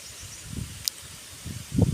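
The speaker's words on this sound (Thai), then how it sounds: "เสียงลมครับเสียงลม เสียงดังเลย ลมมันแรง ลมมันแรง" Strong wind at Lam Pao Dam in Kalasin, Thailand, buffets the microphone in uneven low rumbling gusts that build toward the end, with a faint rustle between them.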